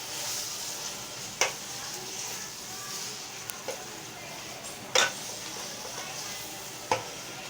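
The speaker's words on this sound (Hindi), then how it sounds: "दरमियानी आंच पे मैं 2 से 3 मिनट कीमे को भूनूंगी अच्छी तरह।" Beef keema being browned in a pan over medium heat, giving a faint steady sizzle with a few sharp spoon scrapes and clinks at intervals, no talking.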